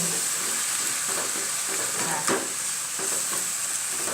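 Mixed vegetables with minced pork and shrimp stir-fried in a hot pan as spring onion, coriander and chili go in, giving a continuous close sizzle with light stirring scrapes over it.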